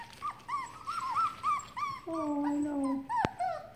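Four-week-old puppies whimper and yip in a series of close, high, wavering cries, with one longer whine, while a person speaks briefly.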